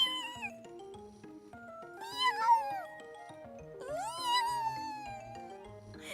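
A person imitates a cat, voicing several drawn-out, wavering meows one after another at close range, with no other sound around them.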